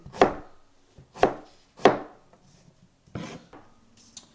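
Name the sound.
knife slicing onion into thin slices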